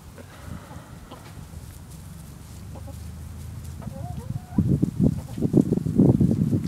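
Chickens cluck and murmur nearby, growing louder and busier toward the end, with a low rumbling background.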